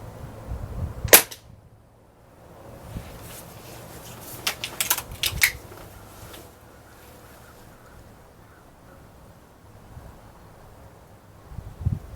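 A Gamo Swarm .22 air rifle with a new piston seal fires a pellet outdoors: one sharp, close crack near the start, followed by quiet open-air ambience with a few faint knocks.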